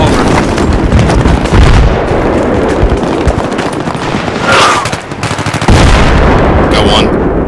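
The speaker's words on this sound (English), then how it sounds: "I spotted a hostile machine gunner in your area." Machine gun fire in the Battlefield 3 video game, loud and continuous with rapid bursts and booming impacts layered over constant combat noise, one brief lull near the end.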